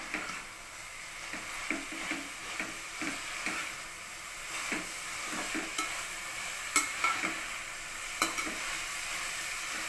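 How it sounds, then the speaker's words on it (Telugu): Fenugreek leaves fry in a pan with softened tomatoes, a continuous soft sizzle broken by repeated sharp clicks and taps of a spoon stirring against the pan. "ఈ మెంతికూర కూడా కొంచెం ఫ్రై అవ్వాలండి."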